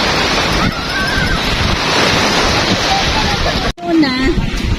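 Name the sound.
waves at White Beach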